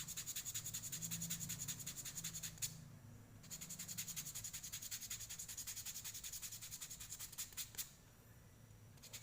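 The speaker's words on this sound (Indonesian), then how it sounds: "kita amplas bagian belakang dulu ya biar enak." Back of a small handmade fishing lure being sanded by hand: quiet, rapid rhythmic rubbing strokes in steady bursts with brief pauses between them.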